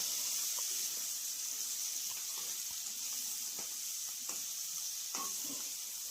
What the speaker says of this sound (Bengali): আমি এবার শিমটাকে বসিয়ে দিয়েছি। শিম ভাজা হচ্ছে।